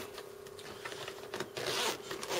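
An old-style zipper is drawn open on a waxed canvas Cold War medical kit, a close, quiet rasping run with small catches and a final louder pull.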